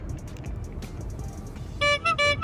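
Dense road traffic rumbles steadily before a nearby car horn blares in three short honks near the end.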